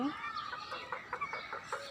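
A few soft, short chicken clucks in a rooftop garden, fairly quiet and scattered over a faint background.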